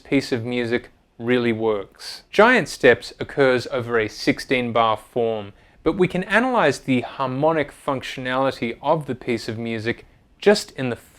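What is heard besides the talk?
None of the usual background noises is heard.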